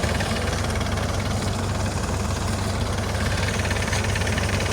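Two small tractors, a Scout TY404 and a DongFeng 404, hitched together in a pulling contest, their diesel engines giving a loud, steady, rumbling drone with a knocking pulse and no break.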